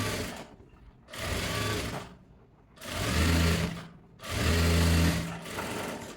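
A sewing machine top-stitches a blouse in three close, steady runs of even whirring, each separated by a brief pause.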